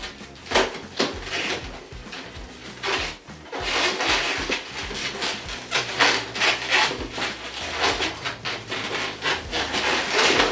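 Latex 260 modelling balloons being pulled over and twisted together for a circus clown figure, giving steady squeaky rubbing and stretching with sharp rhythmic squeaks, close and loud with no talking.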